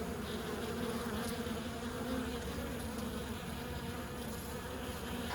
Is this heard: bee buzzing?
yes